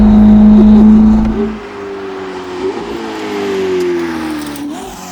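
A 1109 hp Novitec-tuned Ferrari SF90 Spider on cold tires revs hard and loud, its engine note dropping sharply and then climbing again as the car pulls away, up close with no talking.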